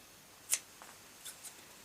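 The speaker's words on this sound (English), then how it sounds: "snip into the corners bit without cutting through the stitches" Fabric scissors snip into the sewn corners of a zippered, lined tote bag, stopping short of the stitches: one sharp, close snip, then a few fainter, lighter cuts follow in a quiet room.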